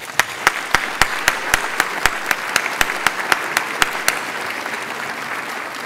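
An audience at an award gala applauds in a steady wash of clapping, with a few sharper individual claps punctuating it at regular intervals, fading slightly toward the end.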